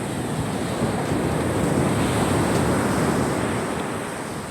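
Steady, loud roar of big ocean waves breaking, with wind buffeting the microphone throughout and no voices.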